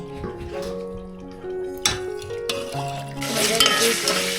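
Chicken sizzles and fries in a pan over a wood-fired clay stove, with a utensil stirring and scraping through it and a few clinks, the frying growing louder and hissier toward the end.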